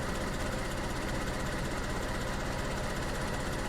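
Small rear-mounted, water-cooled car engine running in the DayZ video game, a constant dense even drone with no change in pitch or loudness, heard alone.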